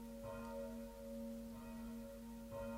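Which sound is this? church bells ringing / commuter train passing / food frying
church bells ringing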